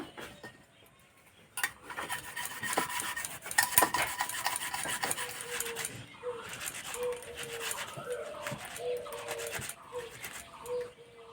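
Tomatoes are rubbed against a kitchen grater in a run of quick, rasping scrapes that start softly and grow busier, while a dog whines nearby in the background.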